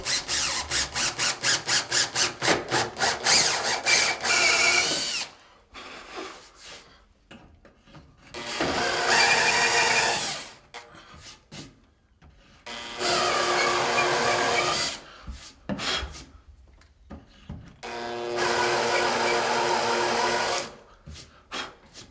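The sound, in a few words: drilling a countersink into wood with a drill bit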